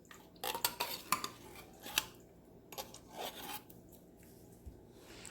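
A spoon scrapes and clanks against a pot as tomato soup is stirred into baked beans with brown sugar, giving a few sharp metallic knocks followed by softer rubbing strokes, close by and without talk.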